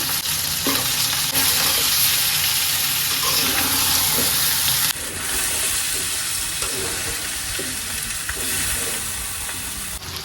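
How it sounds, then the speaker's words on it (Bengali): Potatoes and chicken fry together in spiced oil in a wok, giving a loud, continuous close sizzle broken by repeated scraping stirs of a spoon against the pan. "আলু গোস সুন্দর করে কষাই নিছি"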